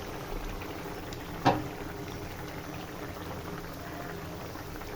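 A pot of hilsa fish with Malabar spinach bubbles at a gentle simmer, a soft steady boil with one brief clink of a lid or utensil, no talking.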